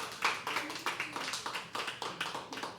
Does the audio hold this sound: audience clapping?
yes